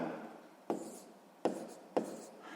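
A pen writes on paper during a sixth-grade math exercise, giving a soft continuous scratching broken by three sharp taps as the pen strikes the page.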